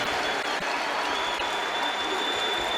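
A boxing arena crowd at the Amir Khan versus Lamont Peterson fight in December 2011 roars and applauds in a loud, dense, unbroken wash of noise.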